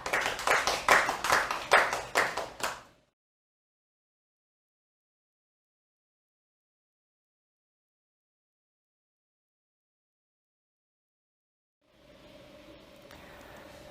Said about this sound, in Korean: 그럼 박수로서 맞이해 주시면 고맙겠습니다.